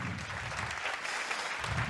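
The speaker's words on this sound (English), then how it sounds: "One big round of applause, please." A crowd claps steadily for a couple of seconds, a moderate, even round of applause heard from within the room.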